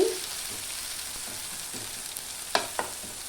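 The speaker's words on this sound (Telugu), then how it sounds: "కొత్తిమీర పుదీనా అన్నీ వేసి తిరమాత పెడుతున్నానండి బాగా మగ్గింది" Coriander and mint frying in a pan of boti curry make a soft, steady sizzle close by, with a few faint stirring taps near the end.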